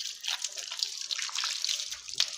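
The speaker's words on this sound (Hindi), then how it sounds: "हाथों को धो लें।" Water splashes and trickles steadily over hands during wudu ablution, a close, continuous pouring with small drips and one brief louder splash near the end.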